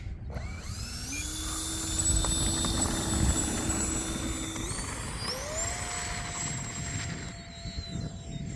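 An E-flite A-10 Thunderbolt II electric RC model jet flies with a steady whirring ducted-fan whine whose pitch jumps up and down as throttle changes, moderately loud over outdoor background noise.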